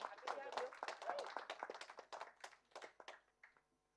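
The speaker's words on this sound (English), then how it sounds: "A huge round of applause," A crowd claps at an international conference on empowering youth through physical education and sports, the applause loud at first and thinning into scattered claps over a few seconds, with a voice speaking over it.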